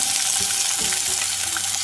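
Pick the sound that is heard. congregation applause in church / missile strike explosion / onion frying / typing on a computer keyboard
onion frying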